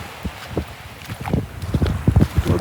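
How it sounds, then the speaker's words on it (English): Breezy northeast wind buffets the microphone on a beach after a hurricane, a steady low rush with louder gusts that build toward the end, mixed with faint footsteps or crunching. "We got wind coming out of the northeast."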